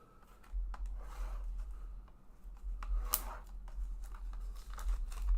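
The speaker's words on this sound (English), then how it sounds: "Orange scissors tonight, not the blue-handled ones." Orange-handled scissors slice open a cardboard box, giving several close, crisp tearing and snipping bursts over a low background hum, with the sharpest cut near the middle.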